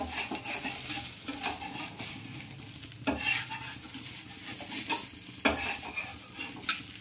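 Garlic dosa (aakshe) cooking on a hot pan, giving a steady soft sizzle with scraping and stirring clatter at intervals, close and moderately loud, with no talking.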